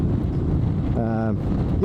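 Steady broadband wind roar buffets the microphone while riding a 2024 KTM Super Adventure S motorcycle in sunny, breezy weather, continuous and close throughout, with a low engine tone rising briefly midway and a voice talking over it.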